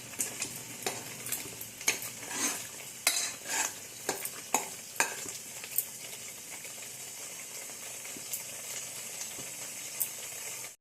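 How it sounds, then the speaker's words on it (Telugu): Ginger-garlic paste fries in a pan for an egg pickle, giving a steady hissing sizzle broken by frequent scraping stirs and small pops, close and alone without talk. "అల్లం వెల్లుల్లి బాగా వేగనివ్వాలి."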